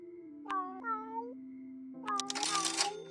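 A cartoonish cat in the cooking game Galaxy Burger meows twice with clear, rising harmonic calls, followed by a busier burst of game sounds and a longer mew near the end.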